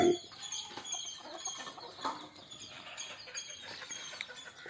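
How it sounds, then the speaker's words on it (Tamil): Country chickens drinking water give several close, clear clucks, with an occasional louder call at the start and a steady low background of farmyard birds. "கோழி தண்ணி பிடிச்சிட்டு இருக்காரு."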